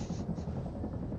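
Helicopter in the video game Arma 3, a steady low rotor thrum and engine whine holding at a moderate level with no talk over it.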